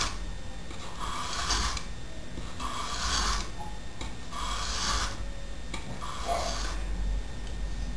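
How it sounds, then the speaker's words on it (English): A machete edge drawn across a coarse sharpening stone, giving four slow, evenly spaced rasping strokes, each lasting about a second, close and fairly quiet. "Once I have the steel removed with the coarse stone down the way I want it"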